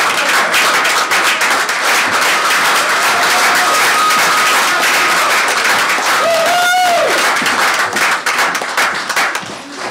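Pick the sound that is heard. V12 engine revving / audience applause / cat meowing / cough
audience applause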